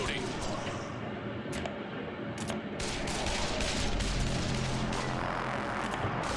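Gunfire in the zombie squad game Breach & Clear: Deadline Rebirth: dense, continuous rattling volleys of shots and booming impacts under steady battle noise, with voices talking over it.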